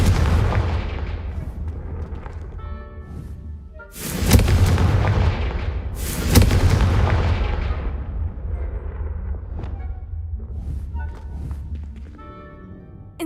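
Confringo blasting spells explode in the Hogwarts Legacy video game: two loud, sharp booms a couple of seconds apart, each with a long rumbling tail. Low game rumble and small effects continue underneath, with no speech.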